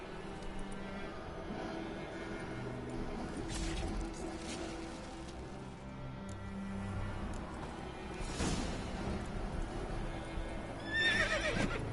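A horse in The Witcher 3 neighs and whinnies amid soft hoof clops and ambient game sounds, fairly quiet, with a brief louder call near the end.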